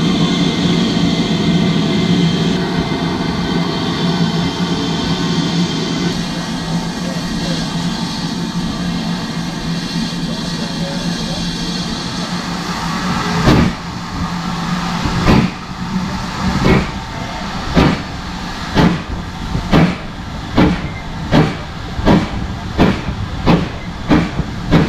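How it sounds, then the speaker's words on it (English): A train rumbles and hisses steadily, then rhythmic clicks and puffs emerge, growing into a regular beat like a steam locomotive pulling carriages, heard from aboard a heritage steam passenger train on the Bluebell Railway. "I'm on a train with this fine loco in charge up ahead."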